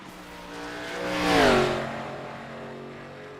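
An Xfinity Series race car at Darlington in a racing video game roars past, its engine note rising to a peak and then dropping in pitch as it moves away, with no talk.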